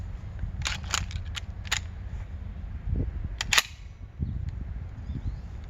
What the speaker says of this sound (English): let me actually unload this shotgun real quick because I have to put 2 rounds in it